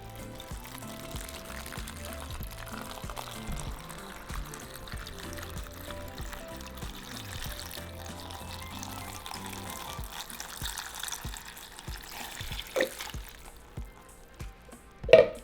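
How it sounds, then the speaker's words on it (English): Water pours into a small saucepan over dried chiles in a home kitchen. It sounds like a quiet, continuous trickle with a few soft clinks near the end. "so now we're just going to cover our chiles with water."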